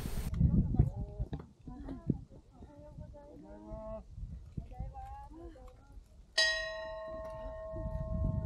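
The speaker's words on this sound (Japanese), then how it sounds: "竜王山といえばやっぱりこの鐘ですよね。 カンカンカンカンってね、豪快に鳴らしてみました。" A large bell on Mount Ryuo, a Japanese mountain summit, is struck once with a bright clang that rings and sustains, after a person talks at length outdoors.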